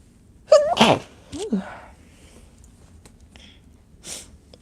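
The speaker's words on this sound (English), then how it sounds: "I had to sneeze." A single sharp sneeze up close, a quick breathy build-up then the burst, followed by a brief sniff and quiet room tone.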